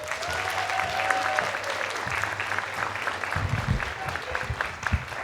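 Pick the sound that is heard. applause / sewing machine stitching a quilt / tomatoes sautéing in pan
applause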